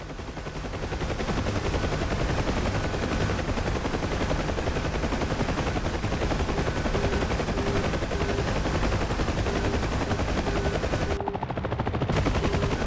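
Huey door gunners in DCS World keep up continuous gunfire against the loud, constant drone of the helicopter's rotor and turbine, ending with a short break near the end, and nobody speaks.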